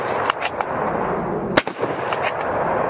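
Shots from a British service rifle on a range: a sharp report near the middle stands out over steady background noise, with fainter pops around it.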